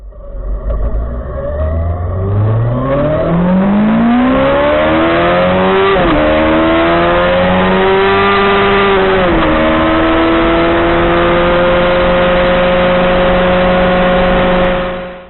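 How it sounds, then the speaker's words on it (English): A Kawasaki Z800's 806cc inline four-cylinder motorcycle engine revs hard and close, pitch climbing smoothly through several rising sweeps with brief dips between shifts, loud and alone. "that is an 806cc inline 4-cylinder engine that you hear"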